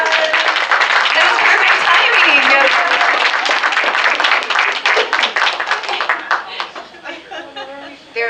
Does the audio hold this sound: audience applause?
yes